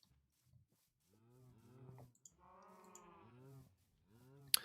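Cows mooing in Minecraft, several drawn-out low moos in close succession, fairly near and clear over a quiet background.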